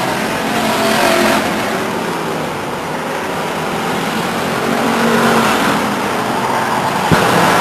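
Pure stock race cars roar around Stockton 99 Speedway during a 30-lap main event in 1999, engines droning steadily and swelling as cars pass, with a brief sharp knock near the end and no talk.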